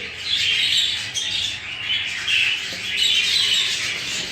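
Newly hatched bird chicks in a nest give thin, high cheeping that rises and falls in overlapping waves, close and continuous over a faint background.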